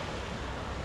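Steady broadband wash of sea waves at the seaside, continuous and moderately loud with wind-like rushing and no distinct breaks, no voices.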